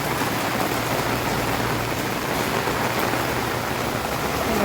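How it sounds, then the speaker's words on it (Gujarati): Heavy rain pouring down in Junagadh, a dense and steady roar of water falling on surfaces, loud and unbroken throughout with no voices. "જો અત્યારે બહુ જ વરસાદ આવે છે, બહાર પાણી હાલતું થઈ ગયું છે એવો વરસાદ આવે છે."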